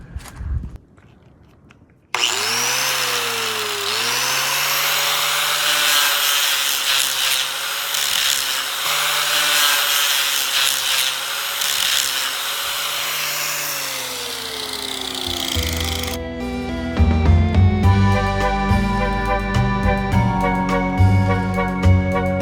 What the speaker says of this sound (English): Here's a big one. A grinder.